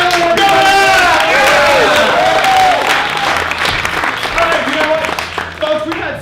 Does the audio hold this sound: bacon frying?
no